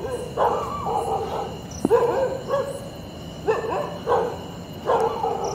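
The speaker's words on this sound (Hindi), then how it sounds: "आते ही कुत्तों की आवाज आने लगी।" Dogs bark outdoors at night during a Hindu hawan ritual, giving several repeated yelping, howl-like calls in uneven bursts over steady background noise and a faint high hum.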